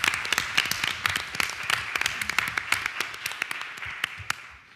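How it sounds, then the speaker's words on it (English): A crowd claps steadily, many hands blending into an even patter that slowly thins toward the end, heard from a moderate distance. "Please give them the round of applause they deserve."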